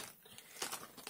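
A plastic bag holding electrical relays crinkles faintly as it is handled, giving a few soft rustling bursts that swell briefly in the middle and again near the end.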